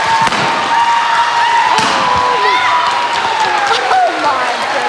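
Applause and cheering from a concert audience at a choir performance, honoring the choir leader; dense loud clapping fills the clip with a few sharp thumps, and a voice speaks over it.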